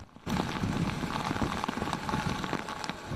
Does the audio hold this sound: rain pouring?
yes